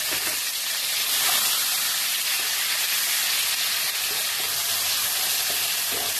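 Ground onion paste frying in a pan for cauliflower korma, a loud, dense, continuous sizzle with steady hiss throughout and no talking.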